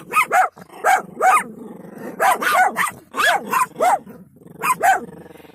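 Several dogs bark in repeated bursts, loud and close, with short pauses between volleys and a growly edge to some barks; no talking over them.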